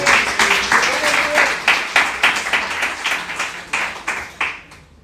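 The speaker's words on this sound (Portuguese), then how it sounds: "Você pode aplaudir ao Senhor com o seu melhor." A church congregation applauds during a worship service, the clapping loud and rhythmic with strong beats, while a voice and faint tones carry on under it before the claps taper off at the end.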